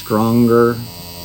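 A PEAK Proteus tattoo machine running at 7 volts with a 4.2 mm stroke gives a steady, close electric buzzing hum for under a second before it trails off into faint background noise.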